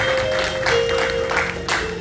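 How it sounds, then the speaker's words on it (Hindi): Congregation at a Pakistani Punjabi Urdu church service in San Jose applauding for the pastor, steady dense clapping filling the room with a sustained tone running underneath throughout. "पास्टर जी के लिए जोरदार तालियां बजा दीजिए।"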